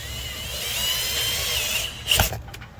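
Power drill driving screws into a GFI outlet box, a sustained whirring drive for about two seconds, then a short, louder burst as the screw seats, followed by quiet.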